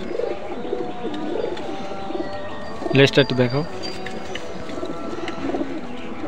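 Khulna chot breed pigeon cooing up close, a short burst of throaty coos in the middle over a steady background of other birds, with someone speaking briefly.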